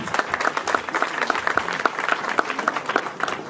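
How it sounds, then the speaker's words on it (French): Wedding guests at a customary marriage ceremony in Brazzaville applaud, many hands clapping in sharp rapid bursts, close and lively, with a faint voice underneath. "applaudissons pour ces deux zonzi"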